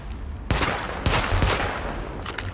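Bursts of gunfire in The Division game, several sharp cracks at about half-second intervals, fairly loud over a steady background of game ambience.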